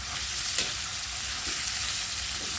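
Sweet and sour spicy chicken sizzles steadily in a pan, with a few soft scraping stirs through the frying, close and continuous with no talk.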